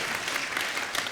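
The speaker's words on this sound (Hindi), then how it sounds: "तो वो इनके लिए जोरदार ताली हो जाए" A studio audience at a Hindi TV comedy talk show breaks into brief, dense clapping. The applause is a close, even burst lasting about a second.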